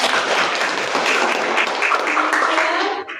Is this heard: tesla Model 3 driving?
no